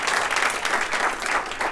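Sustained audience applause rings out steadily for a speaker named Eric, a dense, even clatter of many hands clapping close by, with no voices rising above it.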